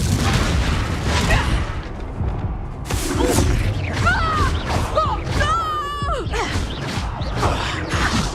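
Spells crackle and explode in Hogwarts Legacy, including a Confringo fire blast, with booming impacts, whooshing tonal sweeps and clashing effects in rapid succession, loud and busy throughout.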